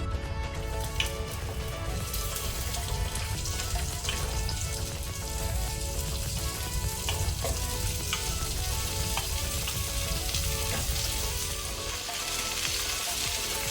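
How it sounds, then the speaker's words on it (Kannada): Okra hits hot oil with cumin seeds in a pan and fries with a loud, dense, continuous sizzle and crackle, close up, with faint stirring clatter and no voices. "ಜೀರಿಗೆ ಕೆಂಪಾದ ನಂತರ ನಾನೀಗ ಬೆಂಡೆಕಾಯಿ ಹಾಕೊಳ್ತೇನೆ."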